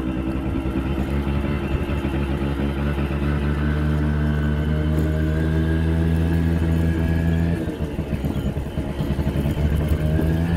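A motorcycle engine runs steadily nearby with a deep, even idling throb that dips briefly near the end before resuming, with no talk over it.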